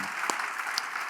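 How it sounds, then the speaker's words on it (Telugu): A church congregation claps loudly together, a dense, continuous wash of many hands from a full room, with a couple of sharper individual claps standing out, and no voices over it. "ఒకసారి గట్టిగా చప్పట్లు కొట్టి దేవుని మహిమ పరుద్దాం"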